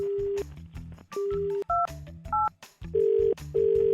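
Telephone keypad tones sound as a number is dialled: a series of short, loud beeps of differing pitch, alternating with clicks and no voices.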